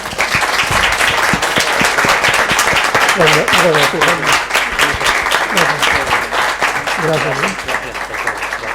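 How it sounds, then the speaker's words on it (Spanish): Loud, sustained audience applause for Antonio Garrigues Walker at a colloquium, dense clapping throughout with a voice speaking over it partway through. "Les pido a todos un aplauso para Antonio."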